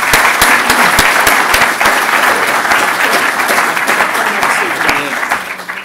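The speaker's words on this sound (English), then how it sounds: "let's give you a round of applause" A conference audience gives sustained applause after a finance director's talk on green corporate energy, with dense, even clapping close by throughout and a slight fade at the end.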